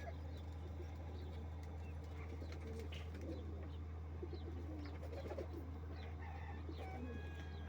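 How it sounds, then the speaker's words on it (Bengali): Pigeons kept in a small loft give soft, repeated coos and scattered bird calls over a steady low mechanical hum, faint and continuous, with no clear speech. "দেখেন ছোট্ট জায়গার ভিতরে কতগুলো কবুতর পালতেছে।"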